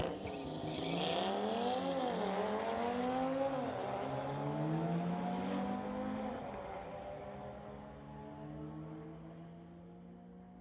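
A 2018 Audi launches in a street legal drag race, its engine revving hard through rising, falling gear shifts before fading into a long, steady roar down the strip; loud and close at the start, thinning as it pulls away.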